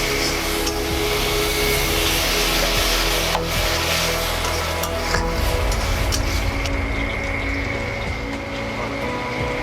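Mashed tomato paste fries in a pan, giving a steady, dense sizzle that holds evenly from start to finish with no voices over it.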